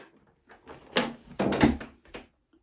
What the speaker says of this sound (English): I'm knocking stuff off my altar, am I not?